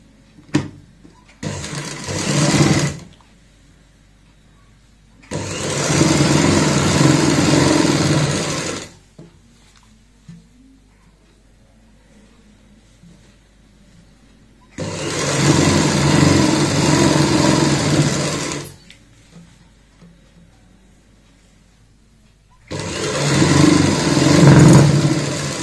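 Sewing machine stitching a half-inch folded seam on a baby frock, four bursts of fast mechanical whirring, each a few seconds long, separated by quiet pauses, close and fairly loud.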